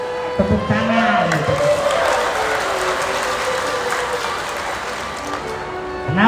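A crowd at a political speech gathering in Indonesia breaks into sustained applause, a dense, even patter of clapping that holds for several seconds, with a few voices and shouts rising through it.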